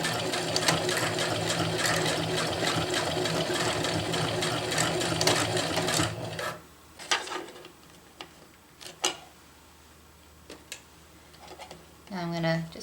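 A sewing machine runs a fast, even burst of stitching to lock a seam on a water bottle carrier, then stops, leaving faint handling clicks and rustles before a short whir at the end.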